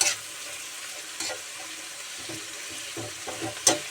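Tomatoes sautéing in a pan, a soft, quiet sizzle broken by a few scraping stirs and clinks near the close.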